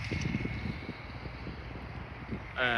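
Wind buffets the microphone outdoors at a garden plot during bean planting, a continuous low rumble of gusts, with a brighter hiss rising near the end.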